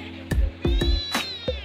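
A cat meows repeatedly in a rural home setting, several short close cries in an irregular rhythm with brief gaps between them, fairly loud and with no talking over them.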